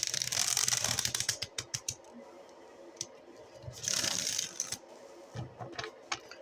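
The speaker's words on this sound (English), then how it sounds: "Give the cards a few shuffles here" A deck of tarot cards being shuffled by hand, with bursts of riffling flutter and a string of crisp taps and snaps as the cards are squared, close and clear.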